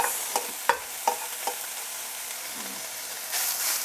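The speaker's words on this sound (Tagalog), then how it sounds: "we will add our snow peas and our carrots" Snow peas and carrots stir-fry with chicken in a pan, several sharp stirring clacks over a steady sizzle, and the frying swells louder near the end.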